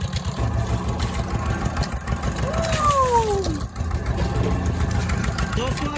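Diesel engine water pump running dry without priming water, a steady mid-pitched engine chug and rattle heard nearby while someone talks over it.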